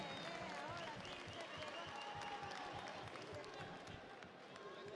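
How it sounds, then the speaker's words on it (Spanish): Crowd applauding both teams at a volleyball tournament match, dense steady clapping with scattered shouts and a busy arena background throughout. "el aplauso para los dos equipos"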